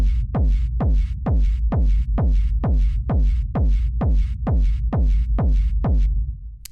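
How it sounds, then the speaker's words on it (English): Industrial techno kick drum at 131 BPM, hammering out about fourteen heavy, distorted hits in a steady four-on-the-floor pulse, each with a booming low tail and a gritty noisy top, loud and alone. "First sound we have here is the kick,"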